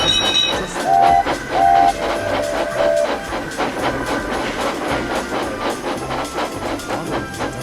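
A steam engine train chugs along the rails in a heavy, rhythmic puffing with clattering wheels, loud and close, and short whistle toots sound near the start.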